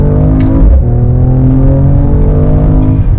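A 2019 Mercedes-AMG CLS 53 accelerates hard to overtake, its engine note loud and close, a droning rising growl with a gear-shift dip near the start, no talking over it.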